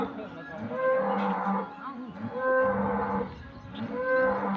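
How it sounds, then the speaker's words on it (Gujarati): Cows mooing on a farm near a well, several long, loud lowing calls close by that overlap and repeat, with no talking. "आ છે અમારી ગાયો"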